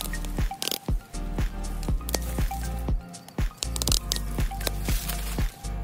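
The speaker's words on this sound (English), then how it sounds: "I am currently watering in my plants" Garden plants are watered in outdoors, with repeated splashy squishes and drips of water hitting soil at an uneven rhythm, close and fairly loud.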